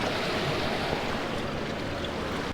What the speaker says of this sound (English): there is a waterfall right over there. It's a real small one.